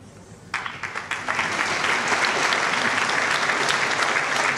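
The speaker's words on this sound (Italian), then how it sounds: "Qui oltre all'applauso il Parlamento è tutto in piedi qui a salutarti" Applause in a virtual parliament session begins after a brief quiet moment, swelling quickly into sustained, dense clapping from a standing assembly that stays loud to the end.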